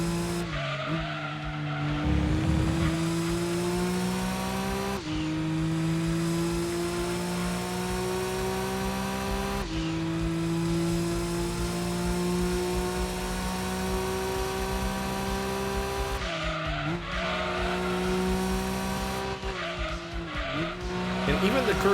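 Audi TT race car in Gran Turismo 2 lapping a reversed full-course track, its engine droning steadily with rising gear-change pitch sweeps and brief tire squeals, loud and continuous throughout.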